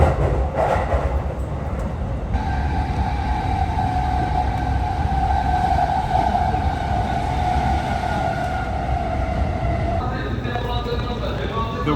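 A train rumbles steadily along the rails near Yokohama, Japan, with a constant low roar and a sustained whine, heard from inside a carriage.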